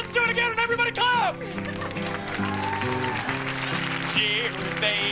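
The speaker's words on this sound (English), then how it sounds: "let's do it again and everybody clap!" A studio audience claps along in steady rhythm on a 1987 talk show, loud and continuous under a sung tune with music and voices.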